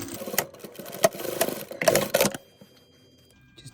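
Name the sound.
sewing machine sewing stabilising stitches on jeans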